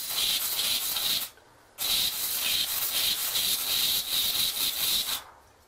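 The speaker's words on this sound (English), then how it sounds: "I'm going to spray right into the material here" An aerosol can sprays into an RC helicopter one-way bearing in two long hissing bursts, loud and close, separated by a brief silent pause, then a final short cutoff.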